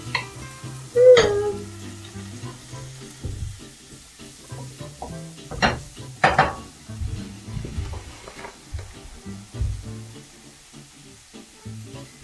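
Roughly chopped garlic and half an onion sizzle in a pan, with intermittent stirring clatter and scraping over a soft, steady frying hiss.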